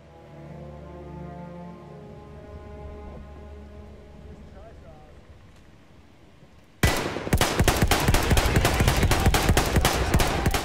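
Battlefield 1 gameplay begins with a low rumbling ambience, then erupts into dense, loud bursts of rapid gunfire and explosions that continue without pause to the end.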